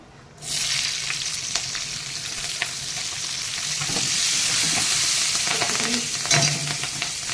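Onion stalks hit a hot pan and break into a loud, continuous sizzle of frying, with occasional stirring scrapes and crackles and no talking.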